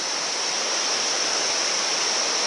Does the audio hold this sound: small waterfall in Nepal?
yes